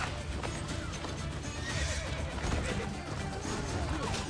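A horse whinnies in Assassin's Creed Brotherhood amid clattering hooves and scuffling commotion, fairly loud and close, with a busy, chaotic action backdrop as riders are pulled off horses.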